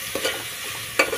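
Vegetables salted and stirred in a frying pan, a soft continuous sizzle broken by a few spoon scrapes against the pan.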